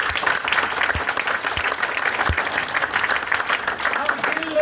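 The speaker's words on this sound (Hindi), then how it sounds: "तो एक बार सर के लिए तालियां हो जाएं" An audience applauds a speaker at a direct-selling networking seminar, dense steady clapping filling the room for several seconds, with a few louder thumps near the front.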